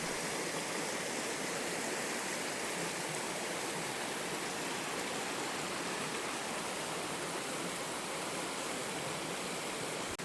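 A burn flowing toward the River Tay in rural Scotland, a steady, dense rush of running water that fills the whole clip evenly, close and unbroken, with no voices.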